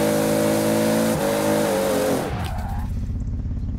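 A Toyota Supra spinning donuts in the video game Forza Horizon 4, its engine holding a loud, steady high rev before dropping away into a lower rumble with tire noise.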